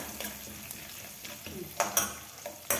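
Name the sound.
peanuts spluttering while frying in oil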